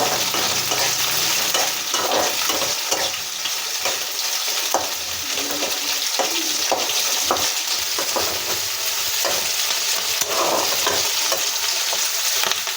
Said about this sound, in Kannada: ಈಗ ಇದಕ್ಕೆ ಈರುಳ್ಳಿ ಹಾಕೋಣ ಫ್ರೆಂಡ್ಸ್.